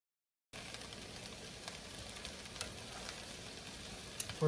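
Brussels sprouts and bacon sautéing in a pan over medium-high heat, a steady, fairly quiet sizzle that starts abruptly after a brief silence and carries on with a few stirring scrapes near the end.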